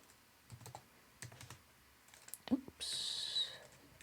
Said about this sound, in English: you can change what it says by just typing it in